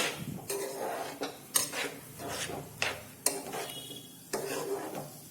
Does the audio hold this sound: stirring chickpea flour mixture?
yes